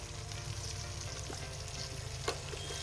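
Beans and potatoes fry with cumin powder in a pan, giving a steady close sizzle with faint stirring scrapes and one brief clink.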